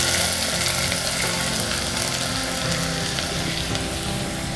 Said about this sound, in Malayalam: എണ്ണ ചൂടാകുമ്പോൾ അതിലേക്ക് ഒരു 2 ഇച്ചിരി വലിപ്പമുള്ള സവാള നീളത്തിനരിഞ്ഞത് ചേർത്ത് കൊടുക്കുക.